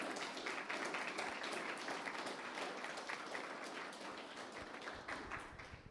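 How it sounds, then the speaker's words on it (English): An audience at a talk on housing struggles gives the speakers a round of applause, many hands clapping steadily and gradually fading over several seconds. "If we can give them, please, a round of applause."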